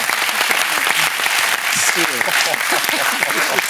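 A television talk-show studio audience breaks into sustained applause, a loud, dense crowd clapping throughout, with a host's voice speaking over it.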